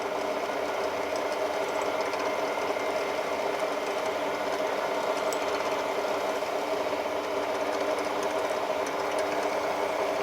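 Steady, even whir of a drill running at constant speed as it bores into a carbide tip with spirit added as lubricant, a continuous mechanical hum with no talking over it.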